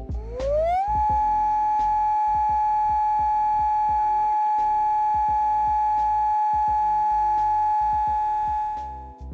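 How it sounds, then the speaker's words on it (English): Hawaii's steady alert warning siren tone sounds during a monthly test, rising briefly at the start and then holding one loud, sustained pitch for about nine seconds. "the alert tone, which sounds like this"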